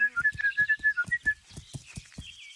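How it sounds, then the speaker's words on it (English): A shrill, warbling horse-calling whistle in the video game Kingdom Come: Deliverance calls out, with rhythmic hoofbeat-like thuds trotting along beneath it, then the thuds continue alone. "My horse only responds to that whistle."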